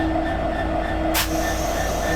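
Steady low rumble and hum of an idling electric locomotive hauling the Sundarban Express at a station, heard up close, with a brief hiss or air release burst partway through.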